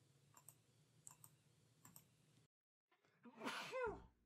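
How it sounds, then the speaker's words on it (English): A single sharp human sneeze near the end, preceded by a few faint clicks and quiet background rustle, then a brief gap of silence before the loud burst. "And I ruined the moment by sneezing."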